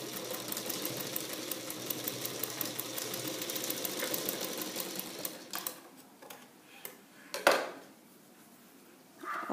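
A sewing machine stitches piping onto a garment neckline, its fast steady run going for several seconds, then stopping, followed by quieter handling clicks and short bursts of stitching.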